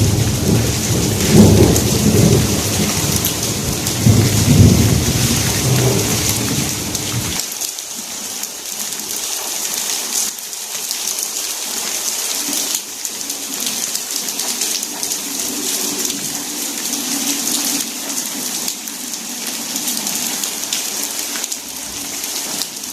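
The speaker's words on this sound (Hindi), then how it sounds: "अभी हम नहाएंगे बारिश में।" Heavy rain pours down on a village with thunder rumbling through it, loud and steady at first, then settling into a hissing downpour on surfaces for the rest.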